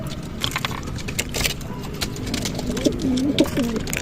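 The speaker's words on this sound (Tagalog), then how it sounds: "May malakas kumain ng mani dyan mga kalapatids eh" Pigeons coo and flutter close by while feeding on scattered peanuts, with scratchy pecking and shuffling noises and a few short calls.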